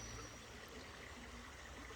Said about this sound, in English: Let's see the creek.